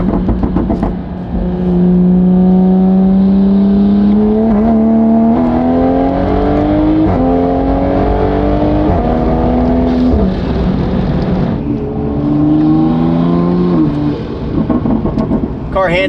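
A Toyota Supra fitted with a drag pack and beadlock wheels drives and accelerates, its engine note rising through several gear pulls, loud and close from inside the car.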